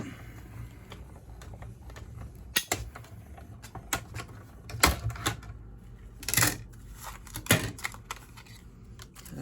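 Scissors snipping a piece of paper card, a series of sharp crisp cuts at an uneven pace, close and fairly quiet, with no voices.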